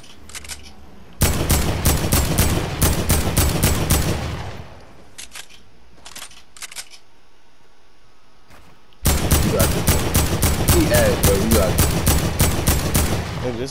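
Rapid AK rifle fire in a shooting video game, loud close bursts of many shots in quick succession, a short pause with a couple of brief volleys, then another long sustained burst.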